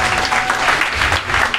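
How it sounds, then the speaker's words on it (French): An assembled audience at a French-speaking meeting applauds a staff representative, a steady, loud wash of many hands clapping without pause. "qu'on applaudisse"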